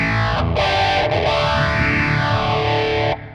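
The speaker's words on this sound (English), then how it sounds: "Let's take the phaser." Electric guitar played through a phaser modulation effect on a Sonicake Matribox modeler, the tone sweeping in slow swirling waves over sustained notes for a few seconds before cutting off.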